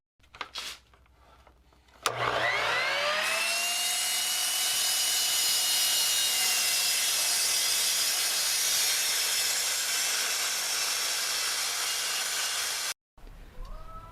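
A power saw cuts off the end of a timber tenon for a timber-framed wind brace: a few sharp knocks, then a loud, steady whining cut held for about ten seconds before stopping abruptly.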